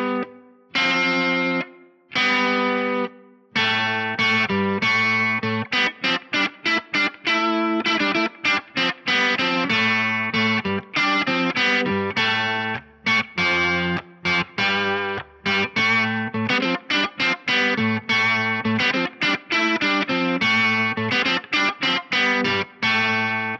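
An electric guitar plays a lively melodic line using custom scales through a pitch-shifter effect, adding shimmering harmonized notes above each phrase, slightly distorted.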